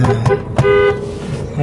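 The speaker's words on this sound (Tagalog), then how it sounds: "At ang pinaka-uli sir ay yung ating horn." Several short car horn toots blare close by, followed by a longer sustained honk, with a voice briefly heard around them.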